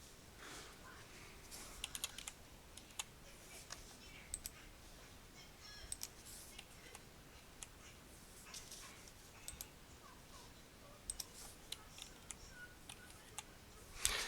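Sparse keyboard presses, Control and square bracket keys tapped in a quiet room, with scattered light clicks at irregular intervals and no speech.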